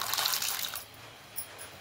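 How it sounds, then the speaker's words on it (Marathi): A corn cob is dropped into water in a kadhai, giving a short, close splashy wash of sound that quickly fades into near quiet with a faint later ripple. "एक मका घेतलाय, आता आपण तो पाण्यामध्ये टाकूया।"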